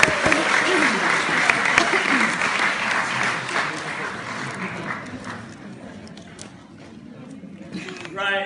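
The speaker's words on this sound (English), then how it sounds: "So give yourselves a big round of applause." An audience claps through a retirement speech, loud continuous applause that gradually thins out toward the end, with some voices mixed in.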